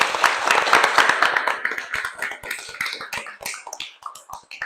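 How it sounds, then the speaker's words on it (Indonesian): Applause fills a lecture session as an audience claps all together, dense and steady at first and then thinning into scattered individual claps toward the end. "Oke, aplaus untuk semuanya."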